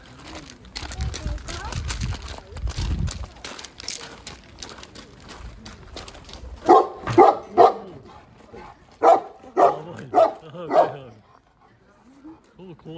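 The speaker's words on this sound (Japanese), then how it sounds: "あれがほら土佐犬でしょ" A Tosa Inu dog barks in a series of about six loud, sharp barks in a rough rhythm, close by, with people talking earlier and pigeons cooing in the background.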